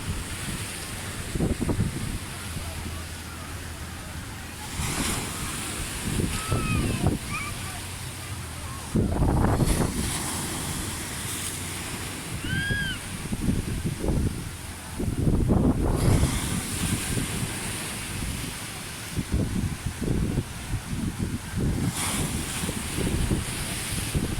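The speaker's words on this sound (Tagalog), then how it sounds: "Ang lakas ng alon." Heavy surf crashes in repeated bursts over steady wind rumble, with a few faint distant calls and muffled voices now and then.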